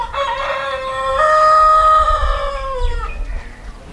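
Brahma chickens at a poultry farm, with a rooster's long harmonic crow dominating close by and loud, stretching over several seconds while softer clucking and farmyard murmur sit underneath.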